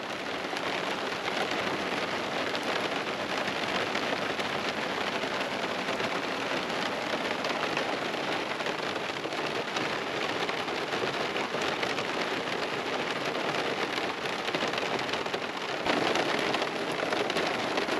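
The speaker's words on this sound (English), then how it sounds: "let's see how this thing does in the rain." Steady rain drums on a vehicle's roof and windows during a July road trip, a constant dense hiss heard from inside, unbroken and fairly soft with no voices.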